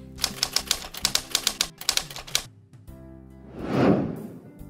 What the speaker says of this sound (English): I'll show you how to add typewriter sounds to your typewriter text.